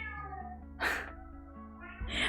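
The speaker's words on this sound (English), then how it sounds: "I can hear my cat meowing." A house cat gives a faint meow in the background under a steady musical hum, followed by a second fainter cry near the end.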